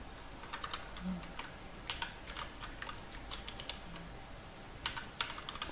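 Rapid, light keystrokes tap out a macro name on a computer keyboard for a Rampage SMX-R75 Striker gaming mouse setup, soft and close in a quiet room with irregular clicking clusters.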